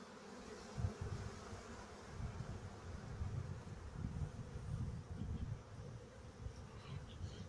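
Bees buzzing around an open beehive during seasonal hive preparation, a steady close-up insect drone with a nearby bee passing by, no talking.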